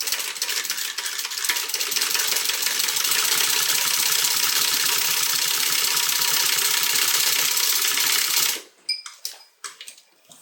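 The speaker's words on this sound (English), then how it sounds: "And we're going to go ahead and stitch." A sewing machine stitches a pocket onto a crossbody bag, giving a fast, steady, close-up stitching chatter for about eight seconds, then stopping with a few scattered clicks and handling sounds.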